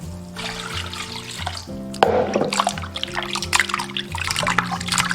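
Eel pieces are rinsed in clean water, producing close splashing, pouring and trickling with a louder splash partway through, and no talking.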